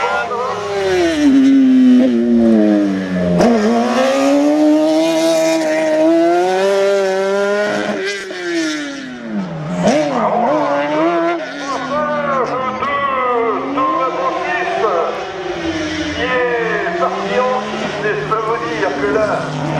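A rally car slides sideways through a slalom course at Le Neubourg in 2017, its engine revving hard and rising and falling in pitch through the turns, loud and close, with a commentator talking over it throughout.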